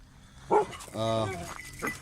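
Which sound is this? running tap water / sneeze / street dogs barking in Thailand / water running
street dogs barking in Thailand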